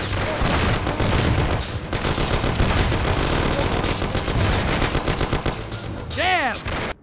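Gunfire in the 2002 video game Mafia during an ambush shootout: sustained, dense bursts of shots and rapid automatic fire, loud and continuous, with shouted voices mixed in and a ringing whine near the end.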